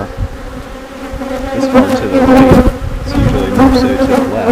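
Honeybees buzz densely around an opened hive during a routine inspection, a loud, close, continuous drone that swells and wavers.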